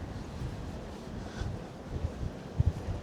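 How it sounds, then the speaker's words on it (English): Gusty wind blowing outdoors in Palma de Mallorca in February, a steady low rumble of buffeting against the microphone with a few stronger gusts near the end. "And the wind is blowing."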